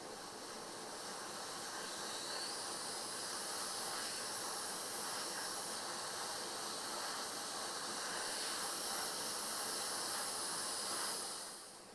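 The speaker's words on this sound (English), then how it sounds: "And so now we can take our airbrush" An airbrush sprays paint onto a 1/35 scale Tamiya Panther model tank wheel, producing a soft, continuous close hiss that holds steady for several seconds before tapering off at the end.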